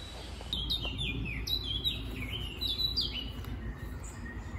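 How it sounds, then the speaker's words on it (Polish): Small birds chirp and twitter in quick repeated phrases, fairly close and clear, over a low outdoor rumble; no talking. "A ładnie ptaszki śpiewają."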